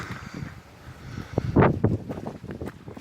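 Gusty, wet summer wind in a pub garden rumbles and buffets against the microphone, swelling into a louder blast midway, with no voices present.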